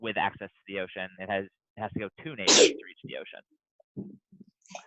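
A single sharp sneeze bursts out partway through a child-friendly geography lesson, loud and close, with people talking before and after it.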